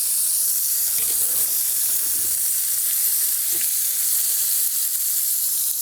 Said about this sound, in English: So I'm actually gonna move the steak to the top of the pan